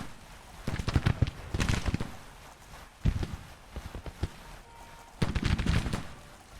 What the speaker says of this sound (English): We do have some cavalry firing on us, too.